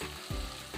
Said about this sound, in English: Mix them until they completely combine well.